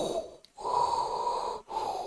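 A voice mimics slow breathing inside a spacesuit helmet: two long, steady hissing draws, each cut by a brief silent pause, close and fairly quiet with no talk.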